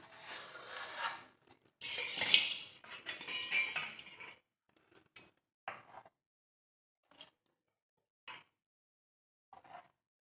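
Cooled homemade ghee is scraped and spooned from a pot into a bowl: a few seconds of metallic scraping and clinking, then sparse, quiet taps and clicks of a utensil against the vessel, with no talking.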